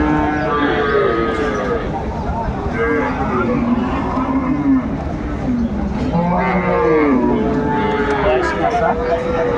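Dairy cows and calves, including Friesian crossbreeds, moo repeatedly at Aftabganj cattle market in Dinajpur. Long, loud calls overlap against a busy market murmur, and people talk throughout.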